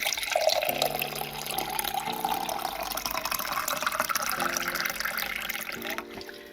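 Drinking water pours and trickles steadily for several seconds, with a bright splashing stream and small shifts in pitch as the vessel fills, heard alone at close range.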